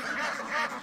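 Geese give a short burst of nasal honking calls, close and fairly clear, lasting under a second.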